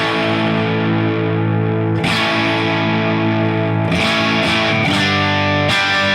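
A distorted electric guitar played through a Line 6 Helix with a high-cut filter holds sustained chords, with fresh strums striking at intervals and the crisp top end dulled.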